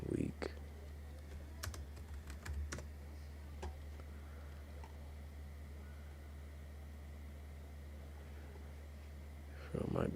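Computer keyboard typing in a quiet room, a few scattered keystrokes near the start and around two to four seconds, then mostly a steady low hum with faint background noise.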